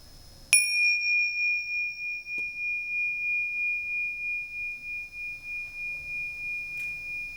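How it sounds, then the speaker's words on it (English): A single bell is struck once and rings out in a clear, sustained pure tone that slowly pulses and fades over several seconds in a quiet room. "Can you listen to the sound of the bell"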